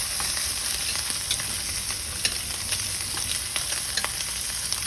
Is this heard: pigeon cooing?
no